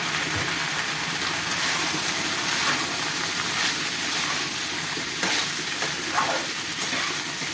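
Bottle gourd fries and is stirred in spiced oil, giving a loud, steady sizzle with scraping stir strokes throughout and no talk.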